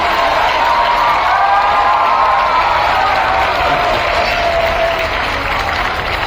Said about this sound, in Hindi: आसमान की ताली बजाइए, दिल से आप ताली बजाइए